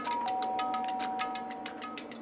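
A doorbell rings in a video game, Danganronpa: Trigger Happy Havoc, a sustained electronic tone over a backdrop of repeated soft chiming blips and steady background music.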